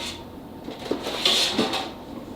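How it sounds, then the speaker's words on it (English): A metal baking pan clatters and knocks against a kitchen surface a few times while a flourless chocolate torte is assembled, producing short, close clanks with no talk. "let me get another pan for you"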